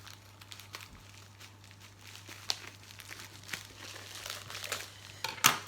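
Crinkly plastic packaging around a diamond painting kit envelope is handled close up, producing soft continuous crackling and rustling with a few sharper crinkles and taps, quiet and without speech.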